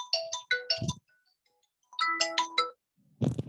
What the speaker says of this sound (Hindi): एक मिनट अभी फोन आ रहा है